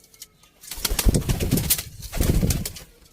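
Pigeons kept as breeding pairs coo in soft, throaty rolling bursts, fairly close and clear, with two main swells of calls and no one speaking.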